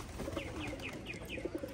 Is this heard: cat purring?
no